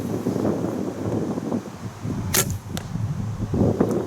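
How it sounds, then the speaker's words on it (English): A Black Hunter longbow looses an arrow outdoors in a 3D archery setting, with a sharp snap of the string followed by a second crisp thwack, heard over steady wind and rustling leaves. "The sound's actually the same, but the longbow, less hollow of a noise is the best way to describe it."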